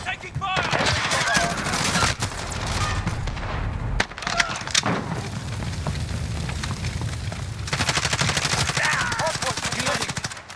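Rapid automatic gunfire in the video game Call of Duty: Modern Warfare, loud dense bursts of shots with brief gaps and sharp single cracks, close and relentless.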